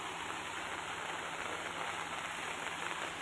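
Dense, steady extreme rain in Umarpada pours down without a break, a constant hissing wash of water with no voices.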